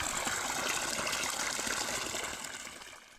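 Irrigation water gushing steadily through a channel in a cumin field, a continuous broadband rush that stays loud and close, easing off slightly toward the end, with no voices.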